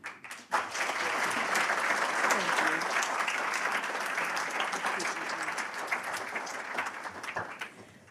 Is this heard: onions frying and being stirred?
no